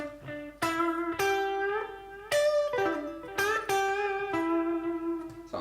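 Electric guitar through an Axe-FX II with an analog mono delay effect: close, plucked notes and chords with ringing repeats trailing each attack, about six strums in quick succession.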